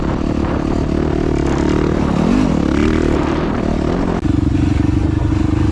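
Off-road vehicle engines bogging through sand dunes at Glamis in third gear, a loud continuous droning rumble with a rising and falling pitch, then a sudden shift to a steadier higher hum.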